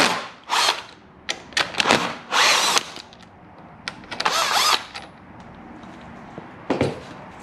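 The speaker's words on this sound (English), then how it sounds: "we're going to undo these bolts here just to get a bit more room" Bolts being undone on a Yamaha XT600Z Ténéré motorcycle, close bursts of a ratcheting or power-driven tool whirring in short spurts with pauses between, no talk.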